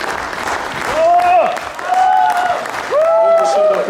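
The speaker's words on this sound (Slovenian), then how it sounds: "Še en aplavz, zdaj imamo pa vse, ki so danes tukaj prisotni na odru." Audience applause at an outdoor charity event on snow as performers gather on stage, steady clapping in swells with a presenter's voice speaking over it.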